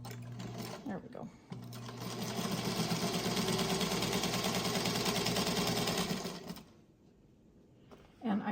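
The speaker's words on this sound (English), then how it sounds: "I'm sewing here using a 1/4-inch seam allowance on my vintage featherweight" A vintage Singer Featherweight sewing machine stitches quilting fabric at a quarter-inch seam, running in a steady, close whirring burst for about five seconds after a brief start, then stopping; faint talk occurs briefly before and after the run.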